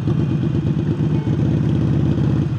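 A Harley-Davidson 48 motorcycle with a newly fitted air intake idles loudly up close, its V-twin engine giving a steady, lumpy, thumping rhythm with mechanical clatter throughout.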